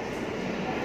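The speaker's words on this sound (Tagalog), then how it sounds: "Meron ding mga tren na nadaan dito palabas ng Barcelona." Trains rumbling past near Plaza Catalunya in Barcelona, a dense, continuous low roar of rail traffic filling the short moment.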